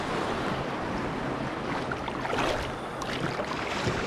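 Sea waves rolling onto the beach at Dzhemete near Anapa on a calm morning: a continuous broadband wash of surf with gentle swells and a slightly louder surge midway, mixed with some wind rumble, no talk.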